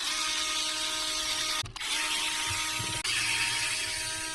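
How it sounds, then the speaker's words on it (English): Power tool unscrewing screws to remove the factory bulkhead on a DC10 RC car, a steady close mechanical whir running throughout with two brief interruptions. "we're going to take these 2 screws out here and then 1 more screw out from underneath"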